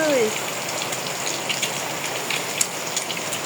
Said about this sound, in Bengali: আর ওদিকে কিন্তু বৃষ্টি হচ্ছে